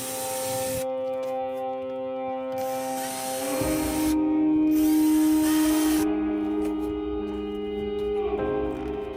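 A power drill bores through pre-made holes in a template into foam underneath, making a steady whirring motor hum with short bursts and pauses and a slight pitch change partway through.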